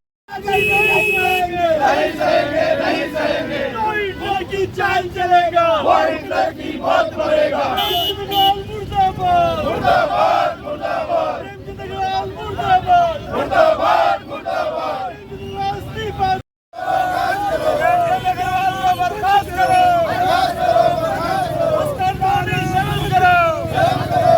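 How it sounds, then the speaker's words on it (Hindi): Protest crowd in Uttarakhand chanting slogans against minister Premchand Agarwal, loud rhythmic massed voices repeating phrases in call-and-response bursts, with a brief cut partway through and continuous shouting throughout. "प्रेमचंद अग्रवाल के खिलाफ जमकर नारेबाजी की"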